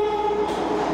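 NYC subway train coming into a station, a loud, close metallic tone ringing over the rumble of the cars for about a second.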